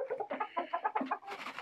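Jersey Giant chickens, a large black breed, clucking nearby in a quick run of short, choppy calls, fairly faint, with no talk over them.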